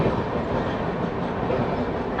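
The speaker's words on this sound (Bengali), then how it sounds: "সময়ের থেকে 1 ঘন্টা বেশি আগে ট্রেন খড়গপুর ঢুকছে" An express train runs on rails near Kharagpur during heavy rain, producing a continuous dense rumble and roar that is steady and loud throughout, with no voices.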